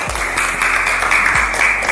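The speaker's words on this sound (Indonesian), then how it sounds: "Tepuk tangan untuk kelompok B." Audience applause for group B during a classroom coaching session, a steady broadband patter of clapping that holds at an even level for the full two seconds with no talk over it.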